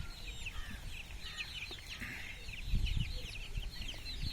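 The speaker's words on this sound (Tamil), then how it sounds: "1 மாத கைரளி கோழி குஞ்சுகள்." A flock of one-month-old Kairali chicks, a country chicken breed raised free-range on a farm, clucks and chirps busily in a dense overlapping chatter, moderately close, with no talk.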